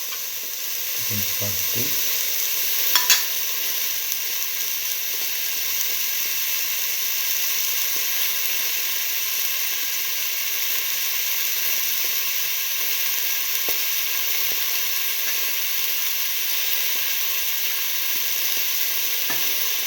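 Tomato pieces sizzle steadily in a hot frying pan for a split mung bean tomato rice, with occasional stirring scrapes and a brief spoken line over the constant frying hiss.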